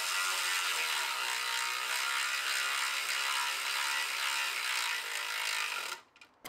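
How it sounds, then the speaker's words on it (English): A 1/4 inch electric ratchet spins a 10 millimeter bolt off the charge air cooler of a 2024 ZR2 with a 3.0 Duramax, giving a steady high whirring buzz close up for about six seconds before stopping abruptly. "We'll take the 10 millimeter off of here on our 1/4 inch electric ratchet."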